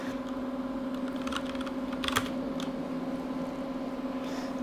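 Sun computer keyboard being typed on in quick, light key clicks in uneven bursts, close by, over a constant electrical hum from a nearby workstation.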